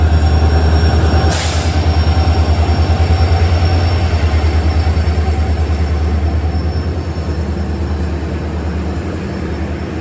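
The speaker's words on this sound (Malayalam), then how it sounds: "10:12 ട്രെയിൻ ഇപ്പോൾ ബംഗാരപ്പേട്ട് ജംഗ്ഷനിലെത്തി." Sanghamitra Express sleeper coaches rumble loudly with a steady rhythmic clatter of wheels over rail joints as the train rolls into Bangarapet Junction, a brief squeal cutting in early and the beat easing as it slows.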